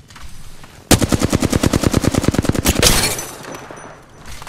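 Rapid automatic gunfire in Apex Legends, a loud steady burst of about twenty evenly spaced shots lasting nearly two seconds, ending in a sharp crack and fading ambience.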